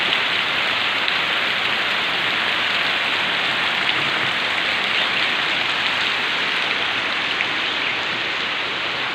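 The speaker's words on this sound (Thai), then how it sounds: "ฝนตกหนักมาก" Heavy rain pours straight down without wind, a dense, even roar of drops hitting surfaces and flooded ground that holds steady for the whole stretch, with no voices.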